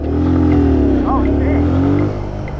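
A motorcycle engine revs steadily as the clutch is let out, a loud, sustained drone that holds and then eases near the end, with a voice talking over it.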